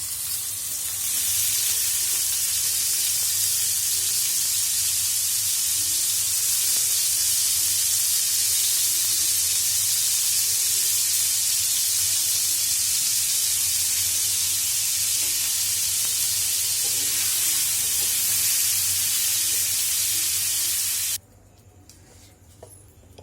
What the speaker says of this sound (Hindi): इसी पैन में अब हल्का सा पनीर को भी डाल देते हैं। हल्का सा ब्राउन कर लेंगे।